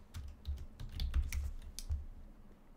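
A password typed on a computer keyboard: a quick, close, quiet series of key clicks over a few seconds, then stopping.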